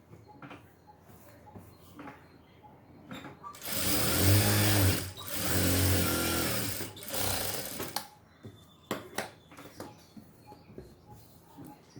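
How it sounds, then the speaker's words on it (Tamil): A sewing machine stitches shorts in a tailoring class, running in one steady, fairly loud burst of about four seconds, with quiet fabric handling and small clicks before and after. "அதே மாதிரி இந்த பக்கத்தில் தைக்கும்போது இங்கே 1/2 இன்ச் அளவுக்கு பிடிச்சி இதில் தையல் போடணும்."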